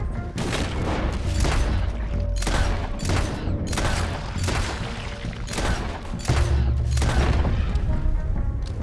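Gunfire in the Red Dead Redemption 2 video game during a chase, with loud rapid volleys of overlapping shots and booms filling the scene almost without pause.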